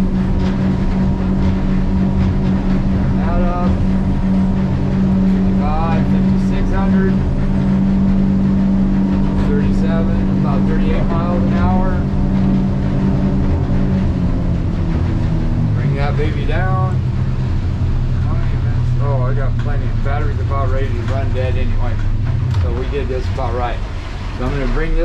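A Weldcraft 240 Cuddy King boat runs at speed on twin Yamaha F115 outboards, a loud constant engine drone and water rush whose pitch steps down later, while someone talks over it throughout.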